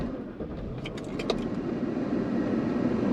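Steady low road rumble and engine hum from inside a moving 2001 Cadillac Sedan DeVille, with a few faint light clinks partway through.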